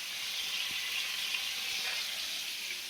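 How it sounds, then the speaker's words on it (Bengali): Prawns fry in hot oil in a pan for a Bengali home-cooked meal, giving a steady, even sizzle that runs continuously at moderate volume, with a few faint low knocks underneath. "ভাজা হয়ে গেছে চিংড়ি মাছগুলো"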